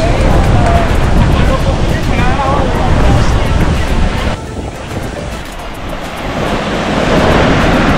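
Ocean waves surge and wash continuously onto a beach at Santa Marta, Colombia, with strong wind rushing over the microphone.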